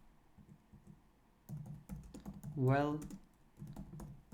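Python code typed on a computer keyboard in soft, close clicks, first sparse and then quicker, while someone speaks over part of the typing.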